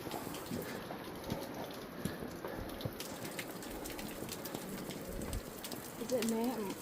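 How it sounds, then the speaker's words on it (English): Fine spray from a waterfall at Lauterbrunnen falls like rain, a steady close patter of droplets hissing on surfaces, with a voice briefly heard near the end. "It's from the waterfall."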